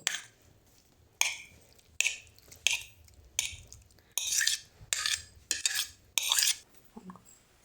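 A spoon stirs dried fruits with a splash of orange water in a bowl for an eggless Christmas fruit cake, giving a string of close, scraping, clinking strokes in short bursts with brief pauses between them.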